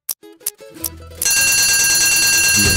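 An alarm clock rings loud and steady for more than a second, its bright continuous bell buzz starting after a few short knocks and rustles.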